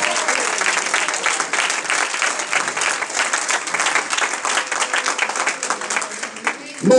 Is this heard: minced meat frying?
no